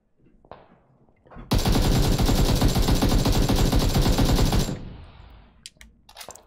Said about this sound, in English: Akm recoil is pretty bad. The spread between each bullet fairly far apart.